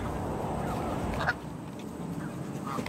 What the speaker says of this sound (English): Please enjoy this gaggle of geese.